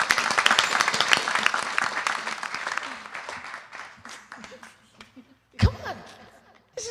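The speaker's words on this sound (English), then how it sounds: "Give them a big hand, come on." An audience at a Navratri celebration claps for the sponsors, with dense applause fading over several seconds and a few laughs and chuckles mixed in, followed by a brief thump near the end.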